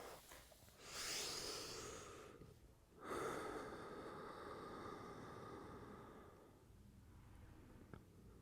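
Slow, audible breaths while resting in yoga child's pose after a headstand, with two deeper airy inhale-exhale swells, the breathing close and fairly quiet, no talking.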